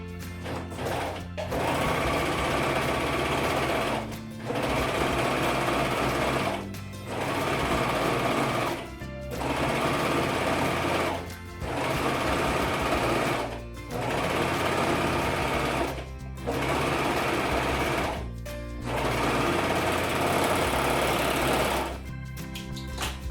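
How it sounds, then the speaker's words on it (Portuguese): An overlock sewing machine stitches the hem of a blouse, running in fast rattling bursts of about two seconds each, separated by short pauses, close and loud throughout. "Agora, passa uma costurinha de overlock na parte de baixo, onde vai ser a bainha da sua blusa."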